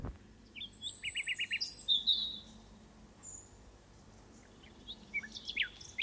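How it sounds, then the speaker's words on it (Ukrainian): Small birds chirp and trill in quick bursts, fairly close, over a quiet outdoor background with no talking. "це спів пташок"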